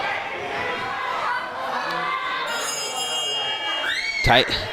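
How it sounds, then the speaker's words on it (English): A bell rings near the end of a wrestling match amid a noisy crowd, with chatter and shouting filling the background throughout. "ringing the bell, trying to say that the match's over"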